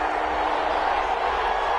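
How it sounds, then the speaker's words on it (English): Football stadium crowd during a game between WG and the Panthers, a steady broad roar of many voices filling the space, continuous and fairly loud without distinct peaks. "Crowd getting in it a bit already."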